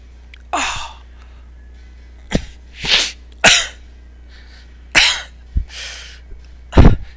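Several harsh, separate coughs burst out close by at irregular intervals, each a short explosive rasp with quiet breathing between, over a low steady hum.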